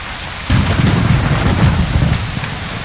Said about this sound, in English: Love the sound effects when it's raining.